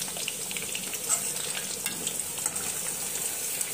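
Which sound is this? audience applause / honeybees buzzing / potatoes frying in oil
potatoes frying in oil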